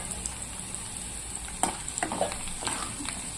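Cumin seeds and chana dal crackle and fry in hot oil with garlic and dried chilies, a steady sizzle broken by a few spoon scrapes and taps against the pan.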